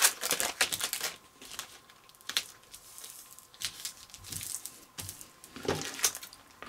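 Material trimmed straight with scissors while making a no-sew crochet hook case, heard as irregular close snips and crinkly cuts in bursts with brief pauses between.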